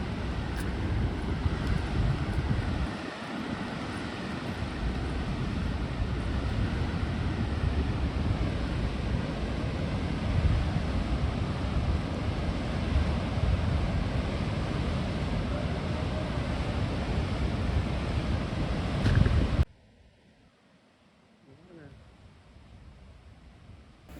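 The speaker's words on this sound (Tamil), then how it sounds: "தண்ணியை பாருங்க என்ன ஃபாஸ்ட்டாக போகுது." Fast-flowing water rushes at Hemavati Dam in Karnataka, a loud, steady broadband roar mixed with wind buffeting the microphone, cutting off abruptly near the end to quiet.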